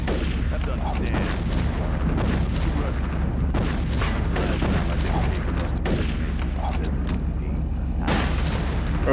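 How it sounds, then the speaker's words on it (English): Gunfire and heavy booms rattle through a combat scene in the video game Roadkill, with an enemy shooting from far away, a dense barrage of shots and rumbling impacts continuing steadily under faint speech. "Bro is shooting me from that far away."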